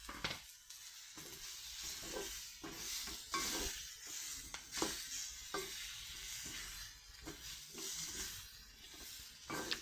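Mango pieces are tossed into chillies frying in a pan, making close, repeated stirring scrapes over a hissing sizzle that surges and eases in an uneven rhythm, with no talking.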